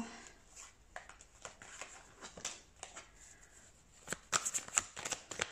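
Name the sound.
shuffling tarot cards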